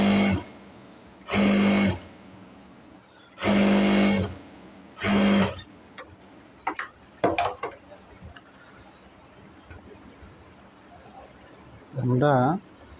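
Sewing machine stitching a palazzo salwar, running in four loud steady bursts of about a second each with brief pauses, followed by quieter clicks and handling noise and a short voice near the end.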